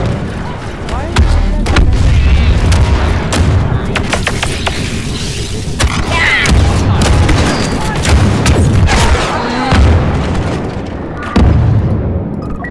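Explosions and gunfire from the Battlefront 2 video game, with booming grenade blasts and sharp shots scattered throughout a busy firefight, while a player talks over the action.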